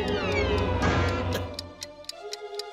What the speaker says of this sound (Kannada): ಟಿಕ್ ಟಿಕ್ ಅಂತಿದೆ ಅಂದ್ರೆ ಇದ್ರಲ್ಲಿ ಟೈಮ್ ಬಾಂಬ್ ಇದೆ.